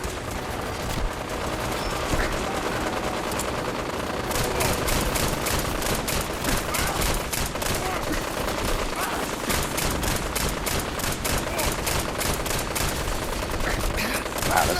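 Dense, continuous gunfire fills a Fallout 4 firefight without a break, a steady rattle of rapid shots layered over one another, loud and close throughout.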